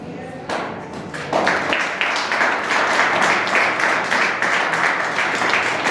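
A church congregation bursts into loud applause that swells after a second and carries on steadily, with mixed voices and clapping throughout.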